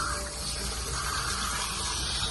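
Water rushes steadily through the cooling system of a Volvo Penta inboard marine engine being back-flushed after running aground. It makes an even, moderately quiet gushing flow with no talking.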